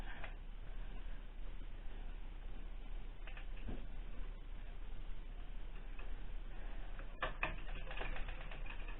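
A sock knitting machine's needles and latches clicking, a run of soft close ticks and mechanical clatter with sharper bursts of clicks, no one talking.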